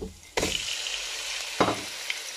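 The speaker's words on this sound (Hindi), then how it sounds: "और इसको अच्छे से हम भूनेंगे इसमें 5 से 6 मिनट तक।" Chicken keema with garlic hits a hot pan with a sudden loud sizzle that settles into a steady frying hiss, followed by a second burst of crackling as the mince is stirred.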